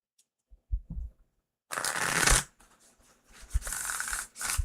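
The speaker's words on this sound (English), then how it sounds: "Good shuffle." A deck of tarot cards being shuffled, with a few soft taps and handling noises at first, then two bursts of crisp riffling and flicking of cards close by, with no talking.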